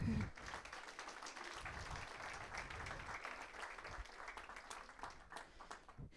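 Audience clapping fills a church or school gathering, a steady wash of applause from a crowd that holds for several seconds before thinning out toward the end.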